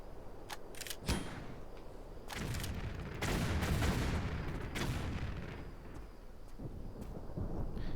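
Super grenades fired in Tomb Raider 4 Remastered set off a string of loud, booming blasts in quick succession over a continuous deep rumble, with no voices.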